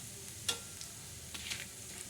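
Red chilies fry in oil for a black masala, making a soft continuous sizzle with a few faint stirring clicks and scrapes, quiet and close.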